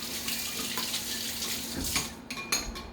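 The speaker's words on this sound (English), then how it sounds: "I'm gonna wash my hands" Water runs steadily from a kitchen tap into a sink during hand-washing, with light clinks of dishes and a few sharper splashes near the end, close and fairly loud.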